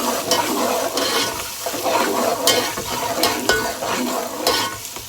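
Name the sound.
frying onion, garlic and ginger in a pan for kadhi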